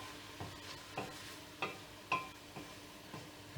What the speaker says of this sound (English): Mix that around.